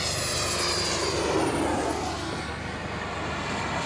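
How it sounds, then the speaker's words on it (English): An airplane touching down in a gentle landing gives a loud, continuous engine roar that holds steady throughout, with no talk over it. "super gentle landing."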